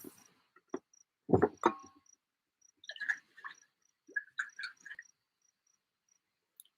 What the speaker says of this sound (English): Yes, I have crickets outside. They're either crickets or frogs.